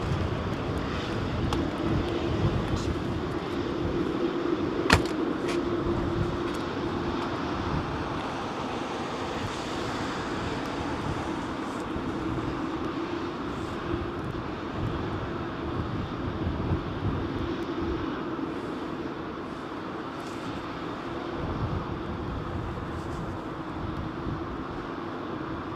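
Airplane landing at London Heathrow Airport, a broad distant roar of jet engine and wind noise that swells and holds steady, with a faint crackle of outdoor ambience and no clear speech.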